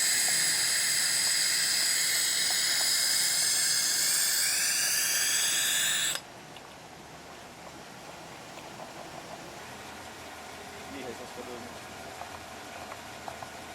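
A vacuum pump transferring waste vegetable oil runs with a loud, piercing high whine and hiss for about six seconds, then cuts off abruptly, leaving a quiet background with faint scattered sounds.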